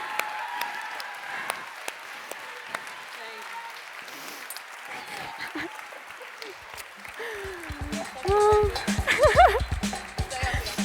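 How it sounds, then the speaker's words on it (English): At an outdoor festival main stage, a crowd applauds and cheers at a distance, and the clapping swells louder toward the end, with voices and stray noises mixed in. "I could hear the crowd screaming"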